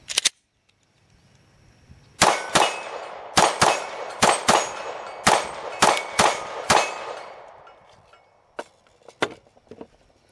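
Glock 19 pistol shots ring out one after another on steel targets, about ten sharp cracks with metallic clangs in an uneven rhythm, followed by a few fainter hits near the end, with no talking.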